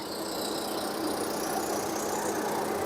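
A car engine idles steadily with a broad, even rumble and hiss, close by and unbroken, with no voices.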